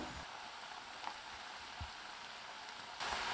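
Cabbage and onion pakoda batter frying in hot oil, a faint steady crackling sizzle with a few soft drops and pops, growing brighter and louder near the end, heard close and without talk.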